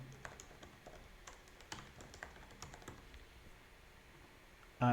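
Rapid, uneven keystrokes on a computer keyboard as an email address is typed, close and fairly quiet, with short clusters of taps and brief pauses and no talking.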